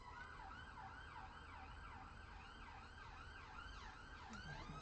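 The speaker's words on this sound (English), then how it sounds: "ambulance." Ambulance siren wailing in a fast, repeating up-and-down pattern, steady and fairly distant, with no talk over it.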